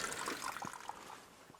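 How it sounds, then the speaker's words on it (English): Mineral spring water trickling out beside a hiking trail on a Seoul mountain, a soft, steady, close dribble of liquid with faint splashy detail, heard alone without voices. "here's one of the places with the little mineral water coming out"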